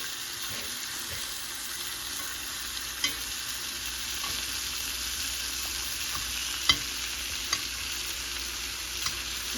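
Water at a rolling boil in a pot, readied for jumbo shrimp, gives a steady, dense bubbling hiss throughout, broken by a few soft clicks and taps, with no talking.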